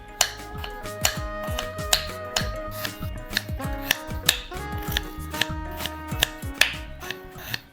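A knife chops peeled potatoes into small pieces on a board: rapid, rhythmic sharp knocks, a couple per second, close and clear with no talking.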